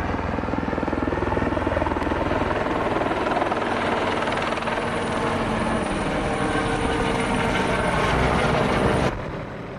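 Helicopters offloading logs straight from a grounded cargo ship to a storage area make a loud, steady rotor roar and engine whine that persists for nearly ten seconds, then cuts off abruptly near the end.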